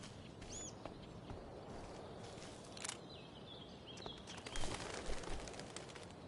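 A pigeon in a video game coos softly in a few short calls, with a brief flutter of wings as it takes flight, all faint against a quiet ambient background.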